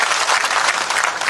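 A short, dense burst of audience applause during a speech by Udayanraje Maharaj, loud and close, many hands clapping at once.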